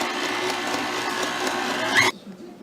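A mixer blends sour cream into berry cheesecake batter with a steady, even motor whir that runs close and continuous, then cuts off abruptly near the end.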